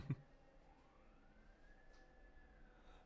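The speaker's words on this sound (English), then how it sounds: "there were sirens going across the street" Police sirens pass across the street outside, a faint, distant wailing tone that rises and falls steadily beneath a quiet room, preceded by a brief soft knock.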